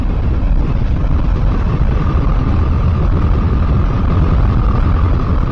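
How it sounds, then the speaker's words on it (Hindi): A motorcycle at high speed, around 80 km/h, recorded by a helmet camera: a steady, loud roar of wind buffeting and road noise that stays constant throughout, with no voices. "चलिए गाड़ी की गति थोड़ा बढ़ाते हैं और देखते हैं कि जब गाड़ी ज़्यादा स्पीड में चलती है तो आवाज़ कैसी आती है।"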